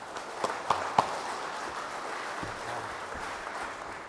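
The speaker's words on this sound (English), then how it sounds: "Please give a round of applause" Audience applause welcoming a keynote speaker at the ʻAha Kāne 2012 gathering, a soft, steady patter of distant clapping with a few sharper claps near the start, no talk over it.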